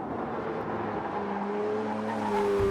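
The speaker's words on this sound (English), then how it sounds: "they make that lovely flat 6 sound" A 2012 Porsche 911 Carrera S flat-six engine is driven hard, a sustained rising engine note with road and tyre noise building steadily, heard from inside the car with no talking.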